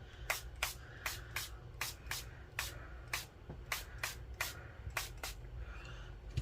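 Short bursts of alcohol ink spray onto a craft tag, a dozen quick hissing puffs in a fairly steady rhythm, close and soft over a low background hum.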